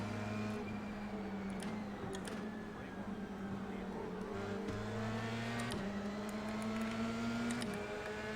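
F3 race car pulling away at a race start in a racing game, a steady droning engine note that climbs and shifts through gears, loud and continuous with faint clicks above.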